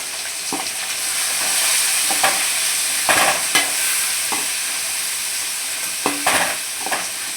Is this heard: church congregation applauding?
no